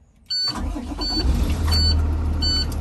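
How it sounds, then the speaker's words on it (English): A truck's engine is started: a sudden loud catch lifts into a steady, low idling rumble that holds to the end, joined by faint high-pitched chimes repeating at intervals. "Go ahead and turn on your motor."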